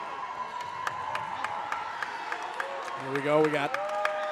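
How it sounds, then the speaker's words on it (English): Home crowd in a high school basketball gym giving a player a hand, scattered clapping and cheers kept faint under a commentator's voice. "So now McLaughlin will get a good hand from this nice Baldwin crowd"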